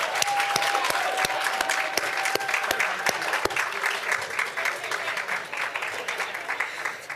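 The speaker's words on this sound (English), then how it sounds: "so we're gonna give them a round of applause" A university audience applauds the Grad Slam finalists at a graduate research competition, a dense, even round of clapping that holds steady throughout, with some murmured voices mixed in.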